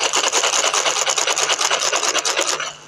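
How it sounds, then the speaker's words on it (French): A blind-football ball with bells and beads inside rolls across a pitch, giving a close, steady rattling rasp with quick rhythmic pulses that fade out at the end. "C'est un ballon à grelot. Il y a des billes dedans. Comme ça, quand il roule, nous, on l'entend."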